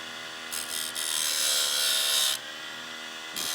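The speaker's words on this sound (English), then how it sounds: "Then we'll turn the little grinder on here." A small electric grinder sharpens a chainsaw chain locked in place, giving a bright steady grinding whine that surges through two longer passes and a brief third touch, close and loud with no talk.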